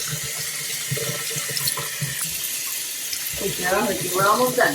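Warm water runs from a tap while dogs are bathed, a steady splashing stream that grows louder toward the end as a person speaks briefly over it.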